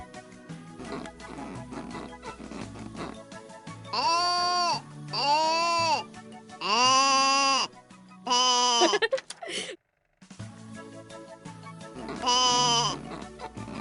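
Five loud, drawn-out sheep bleats, the middle ones in close succession, with quieter rustling and low murmuring between calls.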